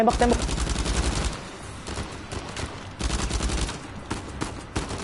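Bursts of gunfire from the video game Uncharted 4, a dense volley up front and more rattling fusillades later, with someone talking over the shooting.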